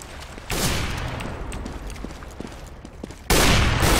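In CS:GO, bursts of rapid gunfire crack close by, one burst near the start and a louder one at the end, with scattered shots and clatter between them.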